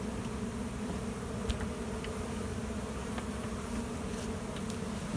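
Bees swarm and buzz steadily around a hive after a catch, a dense continuous drone filling the whole stretch at close range, with no talking.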